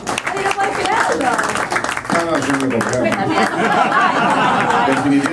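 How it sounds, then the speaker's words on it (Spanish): Audience applause at a magic show in a venue, scattered clapping mixed with crowd chatter and light laughter, with voices talking throughout. "Un aplauso para Ale, no lo puedo creer."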